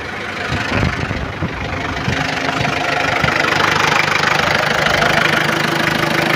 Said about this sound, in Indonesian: Untuk suara Mitsubishi L300 emang suaranya seperti ini,